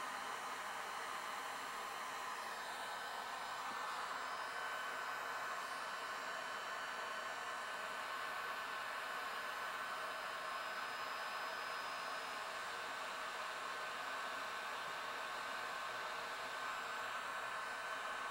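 Heat gun blowing hot air to soften the bonding on a CRT tube, a continuous steady rushing whir that stays even and close throughout with no voices.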